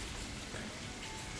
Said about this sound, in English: And it's raining. Typical Florida.